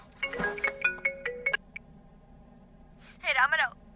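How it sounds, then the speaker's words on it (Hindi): A phone rings with a short electronic melody of bright repeating tones, followed by a pause and then a brief warbling trill, close and clear over a low background hum. "फोन आ रहा है।"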